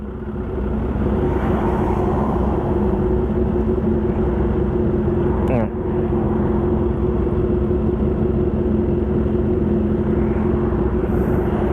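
A Honda CBR1000 motorcycle cruises on the road with a loud, steady engine rumble and constant wind roar, broken once by a brief sharp disturbance midway.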